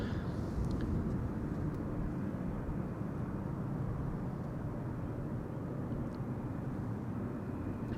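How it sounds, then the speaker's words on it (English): A Qatar airliner taxis back to its parking stand at Amsterdam Schiphol, with a continuous broad jet-engine roar at moderate distance that holds steady throughout. "And there's the Qatar going back to its parking."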